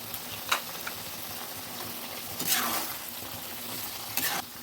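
Mixed vegetables with cashew and melon seed paste sizzle steadily in a pan while a spatula stirs them gently, giving a few soft scraping sweeps over the constant frying hiss.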